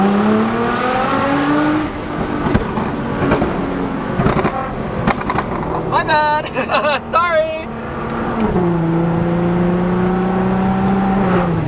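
A car engine revs hard, its pitch climbing and dropping through gear changes, dropping to second gear, with turbo flutter, a brief tire squeal and a person speaking briefly over the noise.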